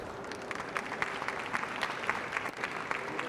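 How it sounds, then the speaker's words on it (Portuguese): Faint, steady clapping from a conference audience in Rio de Janeiro, a dense patter of many hands continuing evenly for a few seconds without voices on top. "Salva de palmas maior para a nossa voluntária"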